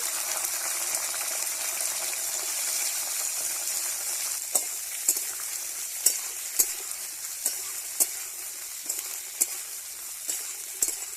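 Chopped beans frying in a wok with mustard seed tempering, a soft continuous sizzle under a series of sharp, regular clicks and scrapes from stirring, fairly quiet and with no talking.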